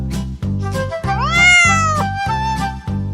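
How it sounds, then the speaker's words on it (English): Cat meowing loudly and close, a drawn-out rising and falling meow over a steady rhythmic pulsing background. "cat,"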